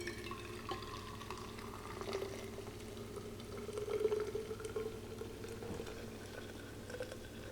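Hot water poured into a French press, a quiet, steady liquid trickle and bubbling with a brief swell midway, heard close and alone.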